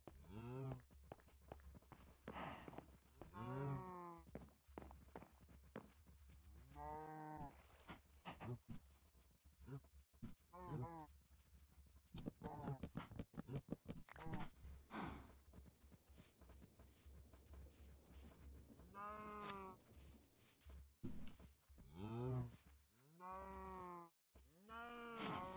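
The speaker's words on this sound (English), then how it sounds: "Okay, then let's get the cows in," Cows moo repeatedly in a farming video game as the remaining herd is brought into the barn, with low drawn-out calls recurring throughout amid footstep sounds and a steady background hum.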